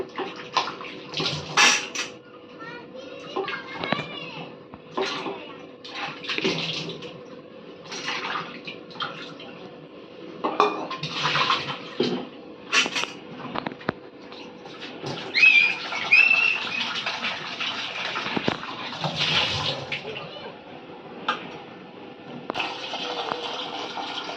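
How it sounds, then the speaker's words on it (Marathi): Potatoes being rinsed clean in water in a home kitchen, a steady splashing and sloshing with intermittent bursts of running water and handling, fairly close, with no talk. "चार बटा पाच बटाटे घेतले ते पण धुवून घेऊया स्वच्छ"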